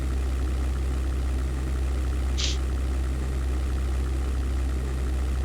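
Aircraft engines in the 1998 flight sim European Air War, flying a Luftwaffe career, a steady low droning hum that holds constant with a short hiss midway and no speech.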